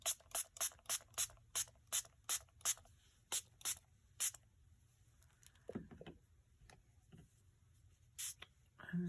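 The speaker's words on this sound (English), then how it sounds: "I'm gonna get my spray water." A spray bottle of water mists an art journal page in a quick series of about a dozen sharp, evenly spaced hissing spritzes, close and quiet, followed by soft rustling and scattered light taps.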